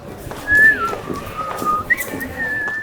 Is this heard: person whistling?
yes